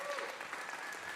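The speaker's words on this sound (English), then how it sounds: "give these kids one more round of applause" A live audience claps for a group of children performing at a WoodSongs Kids show, steady dense applause sustained throughout the short stretch at moderate distance.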